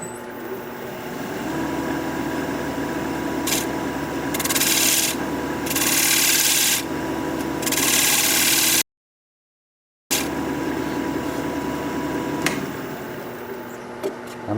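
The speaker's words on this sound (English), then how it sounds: "So we'll try the 3/8 inch spindle gouge." A 3/8 inch spindle gouge cuts wood on a lathe for a four-legged square bowl, giving a steady rough rubbing scrape with brighter, louder bursts of cutting, a brief silent gap, then continued scraping.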